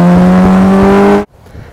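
Campagna T-Rex fitted with a 1200cc Kawasaki rear engine and twin Muzzy exhausts, giving a loud, steady, droning engine note held close for over a second before cutting off abruptly into quiet.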